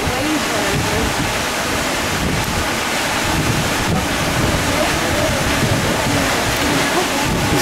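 Waves wash and surge continuously over steady wind rumble buffeting the microphone, a loud, unbroken roar of open water where a moose is swimming.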